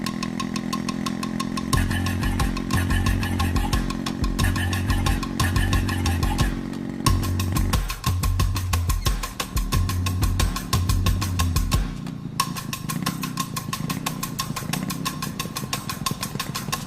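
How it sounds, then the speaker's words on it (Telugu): Motorcycle engine running in a movie scene, a continuous rhythmic mechanical chug with pulsing low throbs and a steady tonal whine, fairly loud and close throughout. "బైక్ పాడైపోయినది బాబు, చేయించేదానికి పోతాండా"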